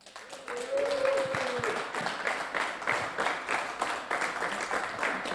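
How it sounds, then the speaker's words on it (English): A crowd claps in sustained applause for a round 5 DTM race result at the Red Bull Ring, dense and steady, with a voice briefly over the start. "A huge round of applause for round 5 at the Red Bull Ring DTM race for Christian Kelly."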